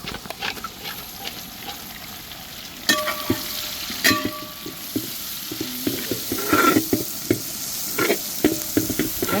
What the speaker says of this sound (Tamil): வெங்காயம் நம்ம வேணுன்ற அளவுக்கு நல்லா வதக்கியாச்சுன்னா